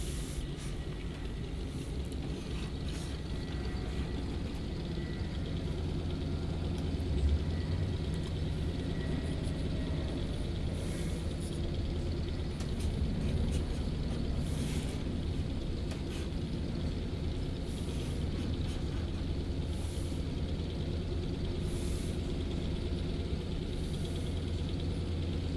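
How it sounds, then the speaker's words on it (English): A DHC-2 Beaver's simulated piston engine warms up in the X-Plane flight simulator, a steady low droning hum with even harmonic tones that holds at constant loudness throughout, heard alone without talk. "Engine's pretty cold right there. I gotta get it at least up here in the green."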